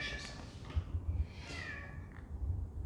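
A house cat meowing indoors, two or three drawn-out meows, faint and quiet against low background rumble, with no talk.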